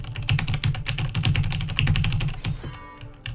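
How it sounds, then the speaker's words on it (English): Rapid, loud computer keyboard typing, keys being hammered in a dense continuous clatter close up for about two and a half seconds before it thins out. "Stop spamming your keyboard. It's loud."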